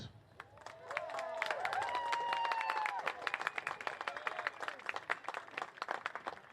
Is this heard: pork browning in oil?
no